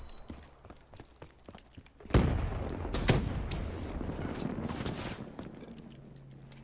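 Gunfire in the video game Call of Duty Black Ops 4: faint shots early on, then a loud blast that settles into a sustained roar of fire and rumbling that lasts to the end.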